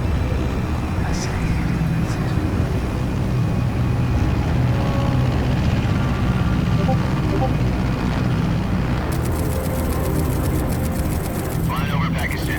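Steady aircraft engine drone in flight from the video game Metal Gear Solid Delta: Snake Eater, a continuous low rumble filling the whole stretch, with a faint high radio-like buzz near the end.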